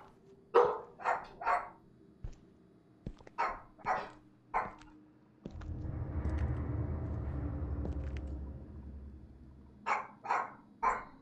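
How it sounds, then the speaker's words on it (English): Dogs barking in the horror video game Visage, sharp barks in quick groups of two or three, with a long low rumbling noise swelling in the middle before more barks return. "Man, the dogs have been very active today."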